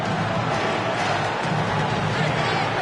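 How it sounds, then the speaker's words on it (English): Basketball arena crowd in an NBA 2K23 game, Boston fans roaring with a dense, constant wash of noise that never lets up over the short stretch. "This Boston crowd really making their presence felt."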